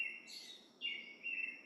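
Birds singing outdoors, a few high chirping phrases coming and going over a quiet background, fairly faint and with no one talking.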